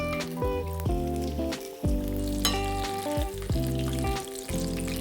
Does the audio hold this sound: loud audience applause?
no